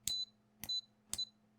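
Three short, evenly spaced beeps from a multimeter's continuity tester as its probes touch a laptop circuit board at a repair bench, clear and close with nothing else heard.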